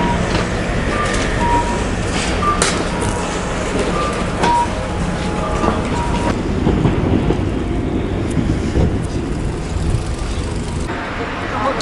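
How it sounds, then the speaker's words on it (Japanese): A train pulls into a station in Fujiidera, Osaka, a loud, steady rumble and rush of wheels with wind buffeting the microphone, continuing throughout without a break. "ちょうど電車が参りました。"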